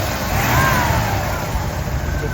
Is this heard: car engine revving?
yes